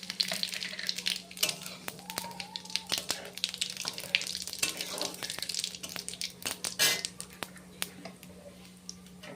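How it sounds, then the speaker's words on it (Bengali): Bay leaf and whole cumin sizzle in hot frying oil left over from frying pointed gourd, a crackly, steady frying hiss with scattered sharp pops and clinks, under a quiet voice. "তাই আমি ওই তেলেই তেজপাতা আর গোটা জিরে ফোড়ন দিয়ে দেবো"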